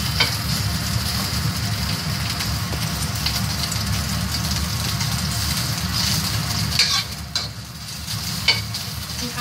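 Constant crackling sizzle of pork frying in hot oil, dense and close, with occasional sharper pops and a low rumble underneath.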